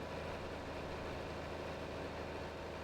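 Straight-piped Oliver tractor engine in Farming Simulator 22, a steady low rumbling drone that holds even and unbroken throughout, with no talking over it.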